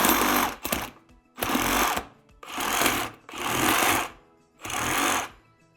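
Saw with a stainless blade whose teeth are reversed cutting through venison ribs: five loud rasping strokes in bursts of about a second each, separated by short pauses, close and alone with no talk.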